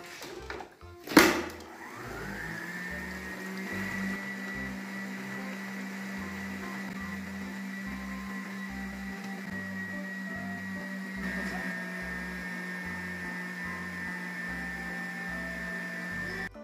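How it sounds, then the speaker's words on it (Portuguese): Stand mixer starting up to knead bread dough: a brief clatter, then a motor whirring up to a steady, moderately faint hum with a faint rhythmic knocking, running continuously near the listener. "ligo a batedeira e vou adicionando ela aos poucos"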